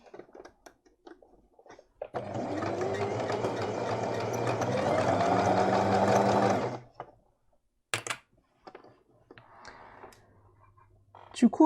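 A sewing machine stitches fabric in a steady, loud mechanical run of about five seconds, its motor whirring with a rapid needle patter, surrounded by quiet clicks and handling noises and a few brief bursts of activity.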